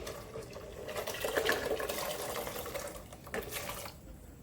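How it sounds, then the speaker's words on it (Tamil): Boiled chickpeas and their cooking liquid are poured into a simmering kurma pot, giving a soft, uneven watery splash and slosh that swells midway, then trails off into a brief final splash. "சுண்டல் வேக வச்சது இதில் ஊற்றிக்கலாம்."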